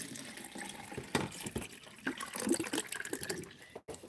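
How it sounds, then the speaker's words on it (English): Water from a household filter pours into a cup printed with Panama City Beach, a steady close-up splash and trickle that runs the whole time, broken by a brief drop-out near the end. "I'm gonna get us some water from our filter."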